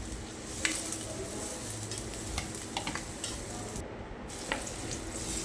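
Onions frying in hot oil in a kadhai for a spicy Konkan dried-fish and potato curry, a steady low sizzle with occasional stirring scrapes and soft clicks, close and continuous throughout.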